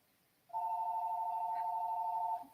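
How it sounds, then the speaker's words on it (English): A telephone rings indoors with one steady electronic tone about two seconds long, clear and moderately loud in a quiet room. "Let me go get the phone."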